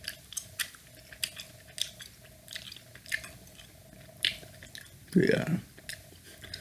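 Gum chewed close to the microphone, with soft wet smacks and clicks recurring through the clip and one louder squelch near the end, alongside a brief softly spoken word.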